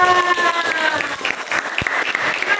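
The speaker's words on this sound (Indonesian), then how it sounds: "tepuk tangan untuk kelompok 2" Classroom applause for a student group in an Islamic religious education lesson, a steady patter of many hands clapping throughout, with a teacher's voice and some tonal speech lines running faintly underneath.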